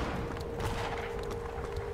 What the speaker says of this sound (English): I like how I just hear gunfire in the background.